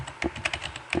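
Quick, close keystrokes clatter in an uneven burst on a QWERTY computer keyboard, about a dozen taps in one second.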